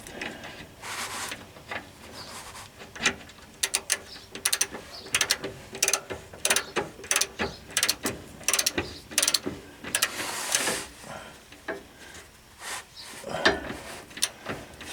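A ratchet tightens a bolt to 46 foot-pounds during car reassembly, with repeated irregular clicking strokes, some quick and some drawn out, close up and fairly loud.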